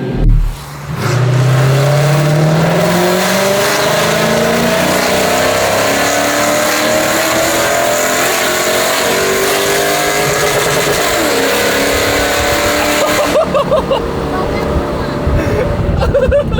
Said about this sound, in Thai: เครื่อง V8 นะครับ1 UZ เราจะขับให้ดูอีกรอบหนึ่งไปกัน